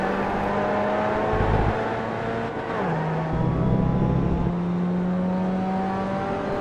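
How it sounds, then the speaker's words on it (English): A Solstice race car in a racing video game accelerates hard out of a corner at Laguna Seca, its engine droning loud and steady at full throttle, the pitch dropping once at a gear change before climbing again. "Exiting the corner I'm under heavy acceleration, but always have full throttle"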